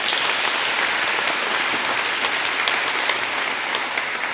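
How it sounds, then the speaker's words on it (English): Steady, dense applause from an audience at an evening mayoral candidate forum in Fairbury, a continuous wash of many hands clapping with no break for its whole length. "how about a round of applause, please, for all the candidates up here this evening"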